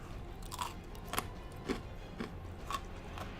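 Someone bites into a Dime chocolate bar, giving several sharp, faint crunches spaced about half a second apart over quiet background hiss. The crunches are close but soft, and no one speaks.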